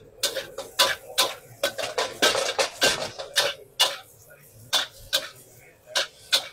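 A spatula rhythmically clanks and scrapes in a pan as bean sprouts, mustard greens and green chilli are tossed into frying mee goreng. The close, steady metallic clatter goes on throughout.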